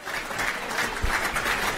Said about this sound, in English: Ladies and gentlemen, Emily, give her a round of applause.